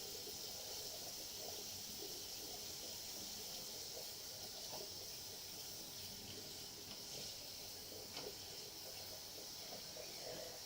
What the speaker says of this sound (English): A lot faster doing dishes with a better water pressure.